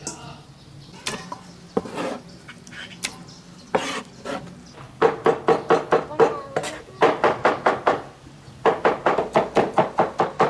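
Tomatoes being chopped with a cleaver on a wooden board in a home kitchen, sharp knocking strikes landing in irregular bursts, then rapid steady runs of close, loud chops.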